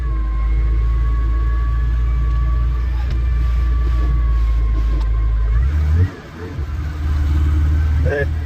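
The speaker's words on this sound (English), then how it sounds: "This thing doesn't tick over, it doesn't like it, so I'm just going to hold the revs here." A Morris Minor engine held at steady revs with a loud, constant mechanical drone, since it will not tick over. Partway through the note dips and falls away briefly, then the revs pick up again.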